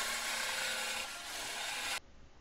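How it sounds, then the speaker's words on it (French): A jigsaw cuts through a sheet of plexiglass at reduced speed, giving a steady, loud, dense buzzing rasp for about two seconds before stopping abruptly, with only faint room noise left. "On découpe le tout avec une scie sauteuse sans mettre la vitesse maximum"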